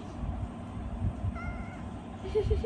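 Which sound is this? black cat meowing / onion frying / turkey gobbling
black cat meowing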